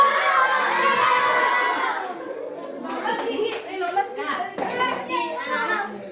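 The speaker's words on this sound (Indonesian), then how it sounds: "Ini belajar teriak ya sampai teriak dulu." Children at an elementary school self-protection lesson shout together loudly in a sustained burst, then break into scattered, uneven shouts and claps, with an adult voice among them.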